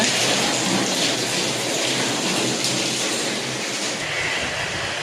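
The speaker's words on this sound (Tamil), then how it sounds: "தெருக்களிலும் பயங்கர மழை" Heavy rain and wind pour down on a flooding street in Sri Lanka, making a loud, steady, dense roar that continues unbroken throughout. No voices are heard.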